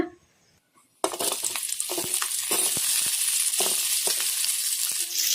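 Chopped onions dropped into hot oil in a kadai burst into a loud, steady sizzle after a second of near silence, with light stirring clinks and crackles throughout.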